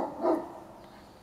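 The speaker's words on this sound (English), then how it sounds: "for about 15-20 minutes, I've been hearing the dogs barking, and I'm so sick of it" A single dog bark from neighbouring dogs, fairly distant and moderately loud, a brief yelp followed by quiet background.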